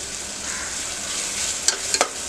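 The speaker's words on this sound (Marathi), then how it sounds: "जिरं घालून चांगली परतून घेऊया फुल गॅस करून." Cumin seeds sizzling in hot oil in a pan over full flame, a steady close hiss with a couple of small sharp crackles near the end.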